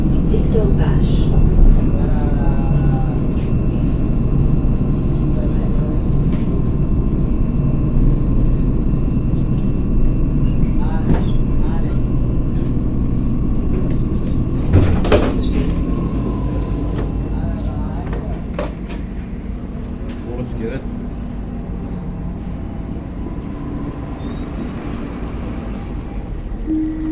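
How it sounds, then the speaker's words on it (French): An RATP tram in Île-de-France rumbles steadily from the inside, a dense low roar with occasional clanks and rattles, and it eases slightly toward the end. "Là, je viens de sortir du tramway"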